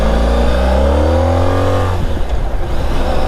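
A Honda ST 1300 touring motorcycle engine revs up loud and close, pitch climbing smoothly under throttle before dropping off into a rougher, lower drone near the end.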